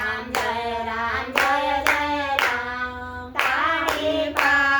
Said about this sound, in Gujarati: તાળી પાડો રાધે શ્યામ શ્રી રામ જય રામ